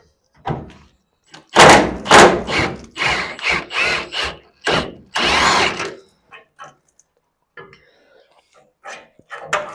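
Tools work a stubborn bolt loose on a 1952 Ford F1 pickup, producing a run of loud, harsh, close bursts and rattles for several seconds, followed by fainter scattered clanks and taps.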